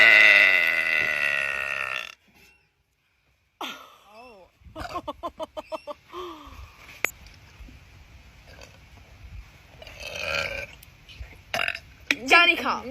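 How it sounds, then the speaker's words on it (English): Loud, drawn-out burps erupt near the mic, the first long and harsh, then a string of shorter belches and grunting throat sounds, with bursts of talk and laughter between them. "Have any more burps coming?"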